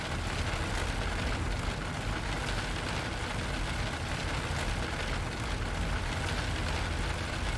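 Heavy rain drumming on an aircraft in the Zibo Mod v3.55 flight simulator in bad weather, a constant broadband wash of rainfall blended with low cabin rumble, continuous and unvoiced.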